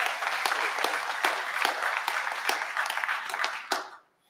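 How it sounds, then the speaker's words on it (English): A congregation claps hands in praise at a founder's day awards program, a steady wash of applause with distinct sharp claps, cutting off abruptly near the end. "why don't you give God a hand clap of praise?"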